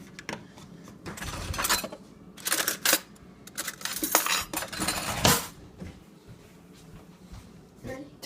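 A metal spoon clinks and scrapes inside a pot of spaghetti sauce in short, irregular bursts, close and moderately loud, with pauses between.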